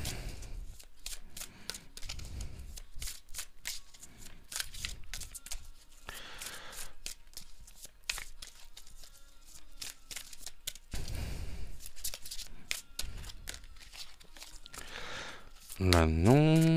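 Shamanic medicine oracle cards being handled and shuffled, with soft crisp flicks and slides of the cards in short clusters, fairly quiet and close, while a person speaks at intervals.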